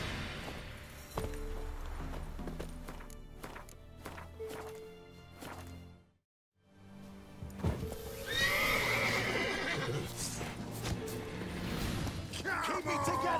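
Roach, the horse in the video game Witcher 3, gallops with rhythmic hoofbeats and whinnies loudly, then cuts out briefly into near silence before the galloping and neighing return amid clattering game effects.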